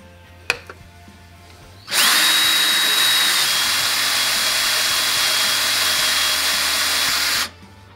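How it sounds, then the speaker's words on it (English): A loud, close power drill whines continuously for over five seconds at a steady high pitch, grinding through an oiled steel spring, then cuts off; a small knock precedes it. "push on it so it'll drill that final little edge on the back side of the spring"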